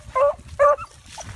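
A dog close by gives two short, loud, high whining yelps, then a fainter third whimper, over a low outdoor rumble.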